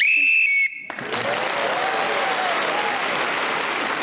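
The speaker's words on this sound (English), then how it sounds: "speaking as the whistle went" A sharp, high whistle blast ends a round on the BBC radio panel game Just A Minute, cutting off abruptly. Sustained studio audience applause follows at once and continues steadily to the end.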